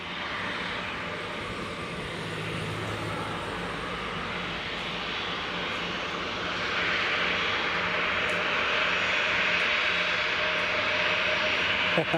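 Jet2 airliner lining up on the runway at Leeds Bradford Airport, its engines giving a steady, distant roar that swells slightly louder partway through.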